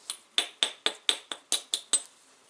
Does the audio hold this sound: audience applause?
no